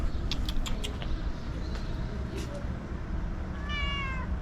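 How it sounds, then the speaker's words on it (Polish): A cat meows close by in Morocco over steady background noise, with faint chirpy sounds near the end and no clear talk. "ale fajny kot znowu"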